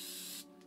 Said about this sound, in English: Now I'm going to get some of the blue and just spray it in places.